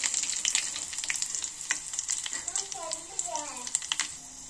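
Curry leaves frying in hot oil in a home kitchen while making gongura dal, a steady close sizzle with crackling bursts and a faint voice briefly heard underneath.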